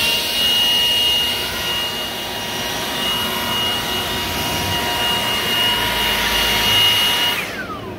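A Milwaukee battery-powered leaf blower runs close and loud with a steady high-pitched whine and rushing air roar, holding constant before spinning down near the end.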